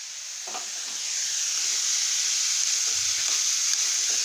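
Cucumber pieces frying in hot oil, a loud steady sizzle that builds and holds, with a few soft clinks from stirring.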